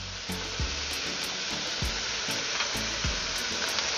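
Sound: vegetables and pepper sautéing in a pan for ackee and saltfish

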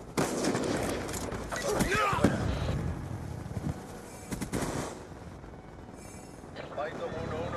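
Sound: AN-94 gunfire in video game Black Ops 2

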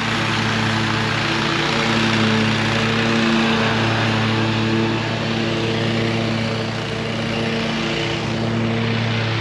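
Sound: lawn mower mowing a field

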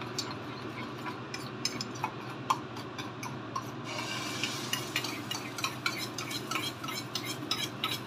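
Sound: egg omelette frying in a pan

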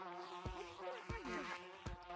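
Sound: buzzing bees in a video game

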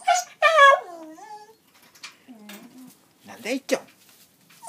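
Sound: pet dog whimpering

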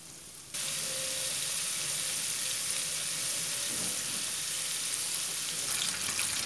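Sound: chicken deep frying in oil

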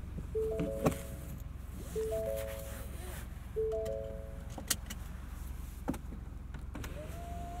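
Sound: power windows of a 2021 Ford F-150 moving

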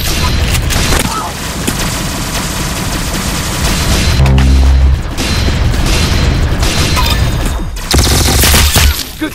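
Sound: gunshots in the video game Roblox Arsenal

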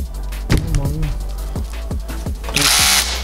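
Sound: Interskol Multimax rotary hammer drilling

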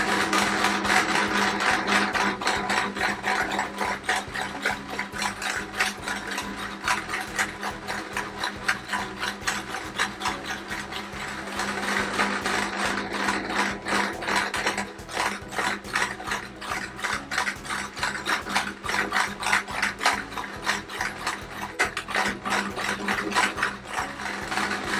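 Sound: sewing machine zigzag stitching quilt appliqué

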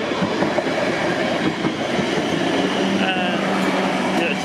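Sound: Havant to London Waterloo train passing level crossing

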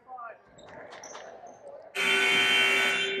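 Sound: buzzer at a basketball game timeout

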